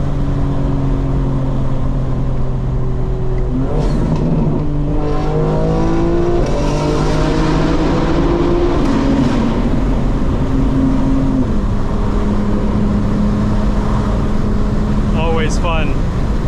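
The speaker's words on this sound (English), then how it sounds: "let's downshift and hit this tunnel real quick." A 2025 BMW M4 Competition xDrive downshifts and accelerates through a tunnel, its engine droning loud and steady with rising and falling gear tones, and a brief sharp rev burst near the end, all heard from inside the cabin.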